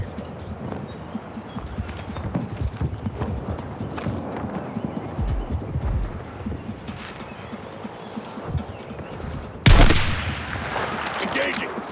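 Gunfire in Battlefield 6, a rumbling battlefield of scattered shots and impacts, then a sudden loud close burst near the end.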